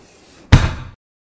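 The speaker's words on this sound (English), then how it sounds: "He slammed my face in the locker!" A metal school locker door slams hard in a hallway: one loud, sharp bang that rings briefly and then cuts to silence, with nothing else heard around it.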